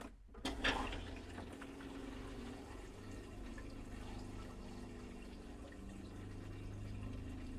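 RV toilet on a 2017 Roadtrek Simplicity flushing antifreeze through the water system, a short thump then steady faint running water and pump hiss continuing throughout.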